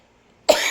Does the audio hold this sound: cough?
yes